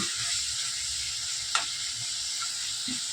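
Potatoes sizzle steadily in a hot pan in a home kitchen at evening, a continuous close frying hiss with one brief sharper crackle midway and no talking.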